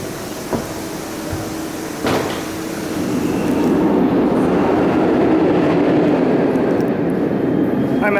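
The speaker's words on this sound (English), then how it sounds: "they don't call it a floorless train for nothing" A floorless roller coaster train at Six Flags Great Adventure rumbles steadily along the track, building into a loud continuous roar with a few sharp clacks early on.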